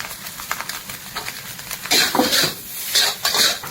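Boiled noodles tossed into a hot street-food pan with spices for egg chowmein, giving close metallic clatter and scraping stir strokes with a light sizzle, growing louder in the second half.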